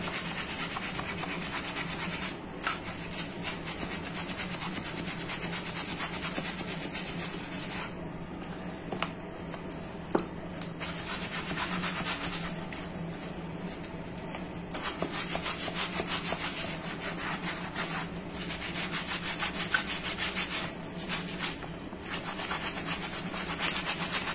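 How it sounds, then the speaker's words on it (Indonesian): A brush scrubs the outside of a shoe as it is washed. The rubbing is steady and continuous, close and fairly loud, with a few brief pauses and changes in stroke. "setelah bagian dalamnya kita cuci atau kita gosok juga bagian luar"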